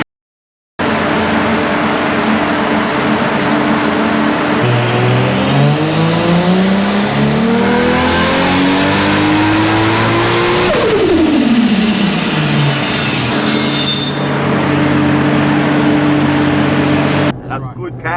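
A 2JZ-powered Nissan Skyline on a dyno runs at 27 pounds of boost, its engine loud and close as the pitch climbs steadily through a long pull, holds near the top, then drops back as it decelerates, with talk in the background.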